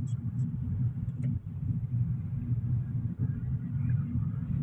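Busy road traffic rumbles past in a steady low drone of car engines, continuous and fairly loud, with no clear single vehicle standing out.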